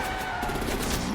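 Gunfire in the Batman: The Enemy Within game, a short burst of rapid shots crackling over dense noise, loud and close, with no speech.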